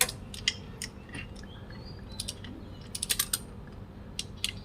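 Torque wrench ratcheting and clicking while bolts are tightened on an Isuzu 1.9 engine, a run of sharp mechanical clicks and ticks in uneven bursts, close up over faint background hum.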